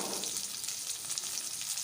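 Salted cabbage frying in a pan gives a brief, steady close sizzle with faint stirring, no voices.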